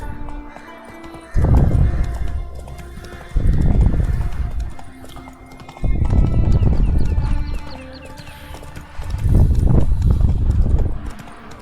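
Roach the horse galloping in The Witcher 3, heavy rhythmic hoofbeats in loud repeated bursts with a neigh, close and prominent.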